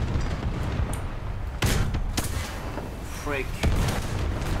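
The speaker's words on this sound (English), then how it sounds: "Bro, artillery again." Artillery fire in a video game: several loud booming blasts land in sequence, the heaviest near the start and again late in the clip, with a voice speaking briefly over the noisy battle background.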